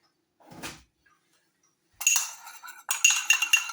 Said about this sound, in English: We'll just mix a little bit of milk into that.